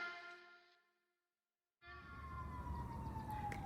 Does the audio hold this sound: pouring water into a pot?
no